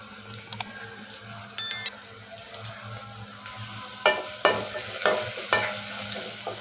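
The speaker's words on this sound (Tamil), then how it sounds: "வெங்காயம் பார்த்தீங்கன்னா இந்த அளவுக்கு வதக்கிக்கோங்க" Thin-sliced onion sautéed in a pan with a pinch of asafoetida, a low sizzle under a few light metallic clinks, then a run of close scraping stirs of the spatula in the last seconds, no voices.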